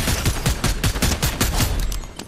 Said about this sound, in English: someone else is shooting at me from here, somewhere